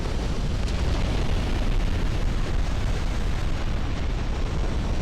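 A warship blowing up in the Ultimate Admiral naval game: a dense, continuous roaring blast rumble fills the whole stretch, loud and unbroken, with no voices over it.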